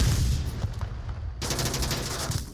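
Rapid bursts of gunfire from the VR shooter Onward during a competitive world-final match, dense and loud, with a brief lull before a sustained volley of fast automatic shots.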